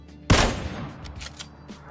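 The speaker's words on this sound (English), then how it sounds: "This is the only high-powered bolt-action sniper rifle that you can find in the open world" A single Kar98k bolt-action sniper rifle shot in PUBG Mobile, a sharp loud crack with a long fading echo tail, followed by faint softer clicks.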